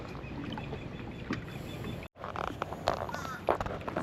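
A Bonafide PWR 129 kayak is paddled on open water with steady splashing and dripping strokes. The sound is close and continuous, with a brief dropout midway and a light wind hiss behind.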